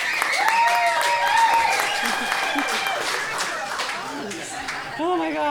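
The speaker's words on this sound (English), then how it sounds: "If you applaud for every single thing, you're going to be tired." Party guests at a memorial gathering clap and laugh together, the applause mixed with lively chatter and voices over a few seconds.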